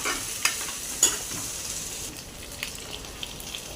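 Sliced onions with ginger-garlic paste fry in a pan, giving a faint, steady sizzle broken by a few sharp stirring clicks from a spoon.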